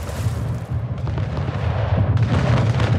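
Artillery gunfire in the strategy video game Anno 1800, a loud, sustained barrage of booming blasts with rumbling low end, two sharper bursts standing out, no talk.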